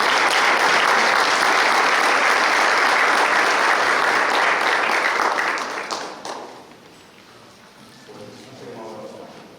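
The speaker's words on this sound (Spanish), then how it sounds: "Recibamos con un fuerte aplauso" Loud sustained applause from a large conference audience for about six seconds, then fading out into quiet room noise and a voice beginning to speak.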